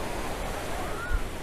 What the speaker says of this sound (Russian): для этого пляжа, это не маленькие действительно волны